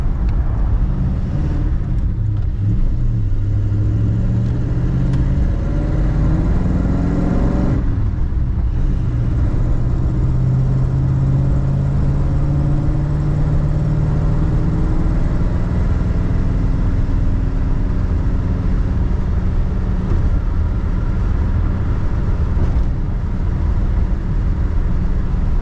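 A 1950 Ford Coupe driving, its engine drone rising in pitch as it accelerates, then dropping at a gear shift before climbing again, steady and close from inside the car with no talking.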